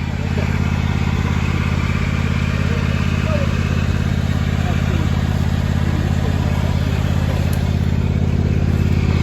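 A diesel tractor engine idles steadily and loudly close by during paddock fencing work, a constant low rumble throughout, with faint voices under it.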